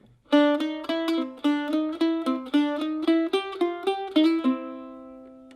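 Mandolin plays the first half of the A part of a tune, a brisk run of about a dozen bright, crisply picked notes in steady rhythm, close and clear, ending on a ringing sustained note.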